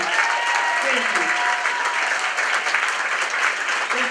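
An audience at a Champions for Children awards event gives a warm round of applause for the award winners: dense, continuous clapping, loud and close, with faint voices mixed in.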